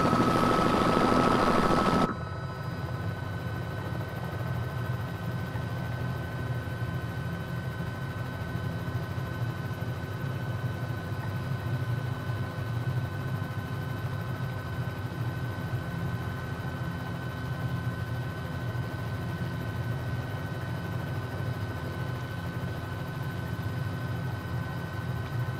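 Bell 206 L3 helicopter in Microsoft Flight Simulator 2020 at Bora Bora: a steady, even engine and rotor drone holds throughout, briefly louder and brighter at the very start before settling into a constant hum.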